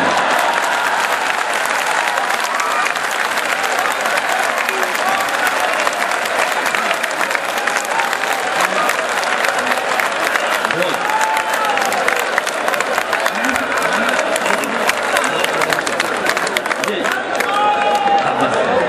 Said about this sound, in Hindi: आपको लगे कि इस देश की तरफ से सही जवाब दिया तो अब ताली बजाना।